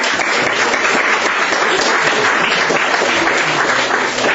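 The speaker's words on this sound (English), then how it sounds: "He also applauding." An audience at a Bhagavad Gita talk breaks into applause, a dense, continuous roar of many hands clapping that stays loud and even from start to finish.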